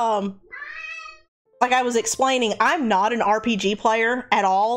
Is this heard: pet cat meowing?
yes